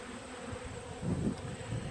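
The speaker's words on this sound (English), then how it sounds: "they're going to be real popular with the bees and the yellow jackets." A steady insect buzz of honey bees and yellow jackets hovering close by, droning continuously with a slight swell partway through, no voices.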